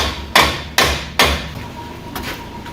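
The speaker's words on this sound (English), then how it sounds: "Needs a hammer." Three sharp hammer blows on metal suspension parts for a Toyota Tacoma ring out at a steady pace, followed by a fainter fourth strike, each with a bright metallic clang that decays quickly.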